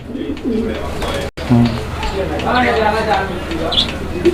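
A pair of colourful racer pigeons cooing in a loft, a few soft throaty coos in between and under someone speaking nearby.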